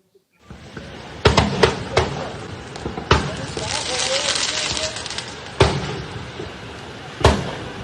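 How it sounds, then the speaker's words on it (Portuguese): An explosion in a car near the Chamber of Deputies annex in Brasília's Praça dos Três Poderes: sharp, loud blasts ring out amid a sustained roaring rumble, with several distinct bangs spaced over several seconds. "Nós temos o momento dessa explosão"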